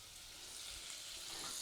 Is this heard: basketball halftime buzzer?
no